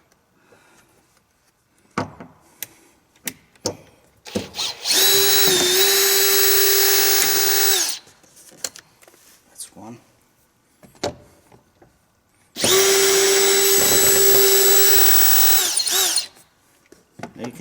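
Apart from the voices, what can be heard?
power drill removing screws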